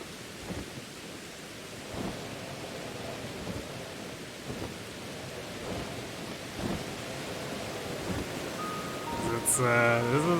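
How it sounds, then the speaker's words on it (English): Steady rain and rumbling thunderstorm ambience from Pokemon Legends: Arceus, a continuous hiss of downpour with low thunder swells throughout and a brief bright chime near the end. "Hard to tell the difference between the rain and the storm."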